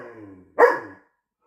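A single sharp bark from a tail-wagging pet dog indoors at home comes close and loud after a faint murmur, then cuts to silence.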